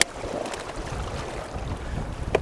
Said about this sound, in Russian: Вот это максимальная 5-я передача, полная мощность двигателя.